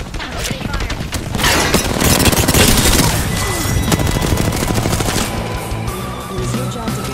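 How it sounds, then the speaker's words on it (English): Sustained automatic gunfire from a machine gun in the video game Apex Legends, dense rapid bursts with booming impacts running loud and continuous throughout, with game voices speaking over the shooting. "Opening fire."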